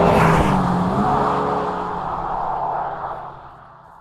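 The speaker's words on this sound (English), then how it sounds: "the piped-in engine sound in Plus R mode is a bit much" A Honda Civic Type R (FL5) hot hatch's piped-in engine sound in Plus R mode drones loudly at first, then its tone eases and fades away, with no talking.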